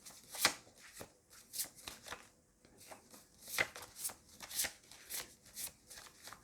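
Tarot cards are shuffled by hand in quick repeated riffles and slaps, a crisp close-up papery rhythm in bursts with brief pauses, fairly quiet.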